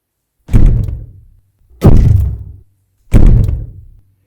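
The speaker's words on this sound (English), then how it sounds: "The thumping stopped at the door to the great hall" Three heavy, evenly spaced thumps strike a door one after another, each loud and booming with a short decaying tail, separated by silence.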